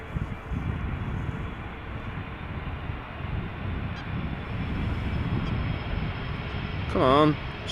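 An airliner lands at Schiphol Airport with a continuous broad rumbling engine roar at moderate distance, steady throughout, with a brief honking bird call near the end.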